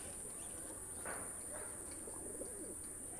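Pakistani pigeons give a few soft, low coos against a faint steady insect hiss, distant and quiet with no talk.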